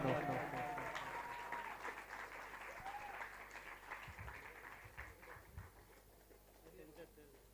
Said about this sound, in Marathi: जोरदार टाळ्या वाजवा मित्रांनो